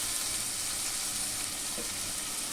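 Onion sautéing in hot oil with cumin and asafoetida, a dense, steady sizzle that holds at an even level throughout with no voices.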